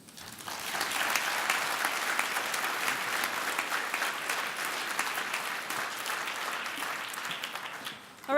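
Sustained applause from an audience at an awards luncheon, a steady dense clapping that runs for about eight seconds before tapering off near the end.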